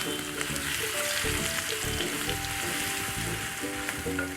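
Garlic ginger paste fries in hot oil in a kadhai with cumin, a loud, steady, close sizzle with crackling bursts and occasional stirring scrapes throughout.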